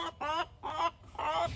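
Backyard chickens clucking near their coop: three distinct, drawn-out clucking calls in a row, close and fairly loud, with quiet gaps between them.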